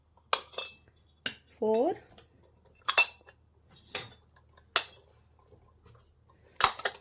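A miniature five-piece kitchen utensil set with lids gives several sharp, bright clinks and taps of small metal pieces at irregular intervals, close and clear, while a person counts aloud between them.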